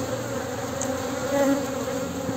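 Honeybees buzzing densely around their queen at an open hive, a close, steady hum with a few individual bees whining past.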